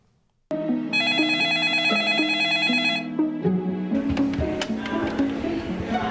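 Telephone ringing at a church prayer help line, a repeating electronic ring pattern that starts abruptly, then gives way to other tones and background sounds toward the end.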